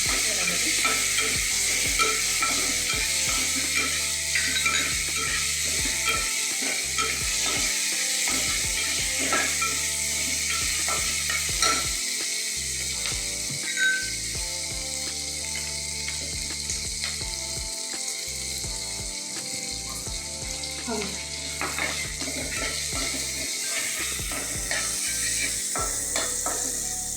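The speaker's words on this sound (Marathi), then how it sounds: "वाटाणे थोडेसे भाजून घेऊया आपण तेलामध्ये." Green peas roasting in oil in a pan for a Maharashtrian vangi bhat, with a steady sizzle and repeated scraping stirs throughout, close and continuous with no speech.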